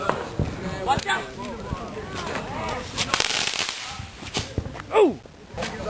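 Fireworks and bottle rockets set off in a street on the Fourth of July, with sharp pops and a whistling rocket rising near the end, heard among excited shouting and chatter from several people.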